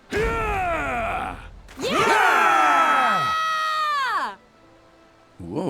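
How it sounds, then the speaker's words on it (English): Screaming from a Final Fantasy XIV Stormblood cutscene, loud, with a short strained cry and then a longer sustained wailing scream. A quieter gap follows before another burst starts at the end. "somebody had a scream in them"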